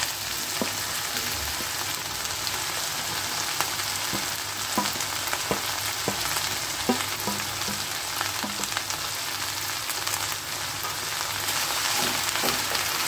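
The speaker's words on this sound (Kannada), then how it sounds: "ಇದಕ್ಕೆ ನಾನು ಹೆಚ್ಚಿರೋ ಅರ್ಧ kg ಆಗೋಷ್ಟು ಬೆಂಡೆಕಾಯಿನ ಹಾಕ್ತಾಯಿದ್ದೀನಿ" Chopped okra frying in a pan, a steady close sizzle with scattered crackles and occasional soft stirring taps, no talking.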